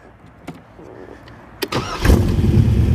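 A 1927 Ford T-Bucket roadster with a small-block V8, roughly 331 to 355 cubic inches, and chrome side pipes cranks over with a couple of clicks and then catches, its engine rumbling loudly up to a rough idle.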